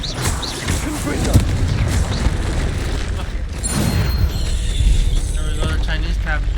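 A Confringo spell blast in Hogwarts Legacy bursts with booming impacts and crackling, grinding debris, layered among mechanical clanks and other game effects over several seconds.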